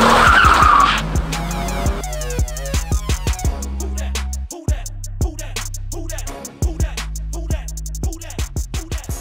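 A Dodge Challenger with the 3.6L Pentastar V6 does a burnout, its engine revving hard with rhythmic pulses under loud sustained tire squeal and skidding, close and alone with no voices.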